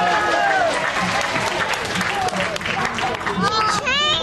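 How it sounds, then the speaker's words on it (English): A crowd applauds a volunteer at a Malian puppetry performance, dense steady clapping filling the room, with voices and a child's speech rising over it near the end. "And a round of applause for him."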